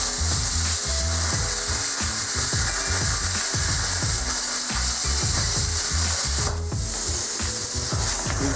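A 50 amp plasma cutter slicing through 3/16 inch steel plate gives a loud, steady hissing roar with crackling sputter and a low rumbling drone throughout, dipping briefly near the end.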